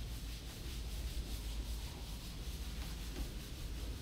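Oil being massaged into a wooden countertop with a cloth in circular motions, giving a steady, soft rubbing swish that runs continuously and close by with no pauses or voices.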